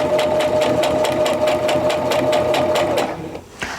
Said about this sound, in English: I'm just gonna go ahead and stitch it.